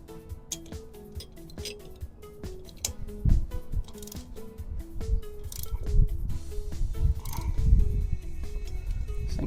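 Wrench torquing bolts to 10 foot-pounds during a MORryde X-Brace install on an RV, quiet close-up ratcheting clicks and metallic clinks in an irregular rhythm.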